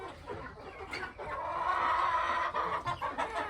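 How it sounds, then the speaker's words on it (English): Chickens clucking on a vegetable farm, a steady run of overlapping clucks and murmurs from several birds close by, with no talk. "They're big chickies now"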